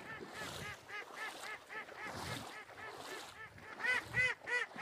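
Ducks call repeatedly in a hunting setting, a series of nasal honking quacks in irregular bursts that are fairly close and grow louder near the end, with no talking.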